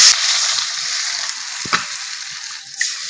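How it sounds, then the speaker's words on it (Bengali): Water poured into a pan of frying fish curry masala hisses loudly at first, then settles into a steady sizzle with a couple of sharp pops. "এখন আমি জল দিয়ে দেব।"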